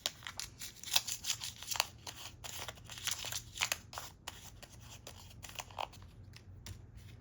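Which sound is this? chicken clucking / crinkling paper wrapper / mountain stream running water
crinkling paper wrapper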